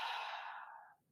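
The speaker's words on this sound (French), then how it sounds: "On va souffler par la bouche." A deep, breathy exhale through the mouth during a yoga breathing exercise, loud at first and then fading steadily over about a second.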